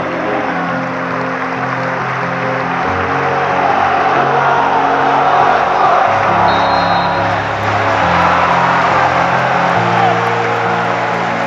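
A stadium football crowd in west London applauds and cheers in the 10th minute as a tribute, a broad sustained roar of clapping and voices swelling slightly midway, with a low musical drone underneath.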